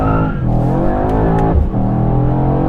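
A Mercedes-AMG E63S engine drones loudly and changes pitch with faint tyre noise as the car slides and waggles its tail, heard up close and on its own.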